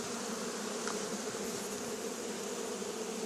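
Honey bees buzz steadily around a hive, a dense, continuous drone close by that stays level throughout with no voices.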